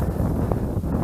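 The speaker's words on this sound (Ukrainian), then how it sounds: "Знову задуває вітерець." Steady wind buffeting a microphone outdoors while fishing on water, a low continuous rumble with no voices.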